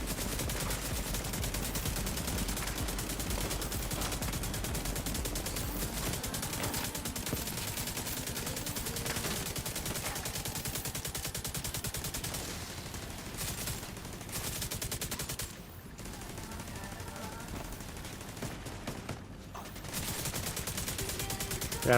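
Stoner LMG light machine gun fires in a long unbroken burst in The Division 2, loud and dense, the rapid shots running together with only brief dips near the end.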